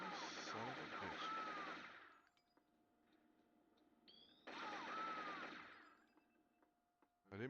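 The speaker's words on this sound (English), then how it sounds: "The second the window breaks, he's firing a shot." Gunfire in the first-person shooter Shogo bursts loudly for about two seconds, breaks off to a quiet hum, then returns in a second rapid volley with ringing metallic tones.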